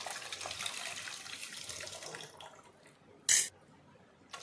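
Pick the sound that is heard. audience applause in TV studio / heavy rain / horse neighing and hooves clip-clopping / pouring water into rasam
pouring water into rasam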